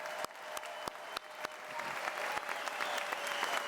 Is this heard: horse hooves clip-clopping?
no